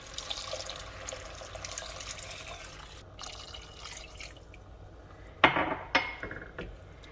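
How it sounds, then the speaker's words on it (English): Water is poured into a pot for ground beef Japanese curry, a soft running trickle at first, then a few louder splashes and clinks near the end. "Now I'm going to add 5 cups of water."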